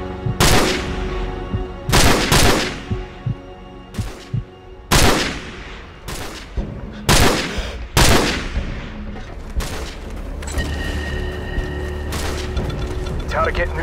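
Gunfire in Call of Duty 4: Modern Warfare rings out as a string of loud, close single shots, some in quick pairs, each with a booming echo, then thins into a busy rumbling backdrop with voices.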